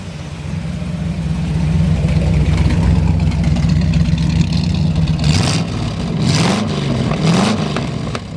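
A 1947 Ford Super Deluxe hot rod engine runs with a loud, steady low rumble, then revs up in several surges toward the end, each rising and falling back to a smooth idle.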